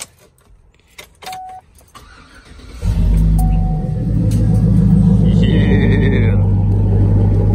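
A 1977 Ford F150 Custom pickup's engine cranks and catches, then settles into a loud, steady low idle that runs on close by, after a brief spoken word and some jangling sounds early on.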